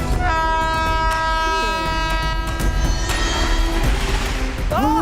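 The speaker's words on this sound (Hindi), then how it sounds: "लेकिन उस ट्रैक पर पैसेंजर ट्रेन राइट टाइम पर आती है सर।" A passenger train approaches along the track with a loud, sustained horn blaring over a heavy rumble. The horn pitch bends near the end, and a voice is faintly present beneath the noise.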